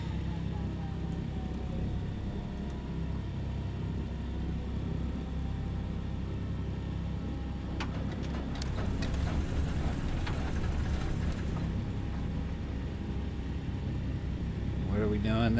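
Simulated DC-3 piston aircraft engines drone in a flight simulator game, a steady low rumbling hum running throughout, with someone talking over it.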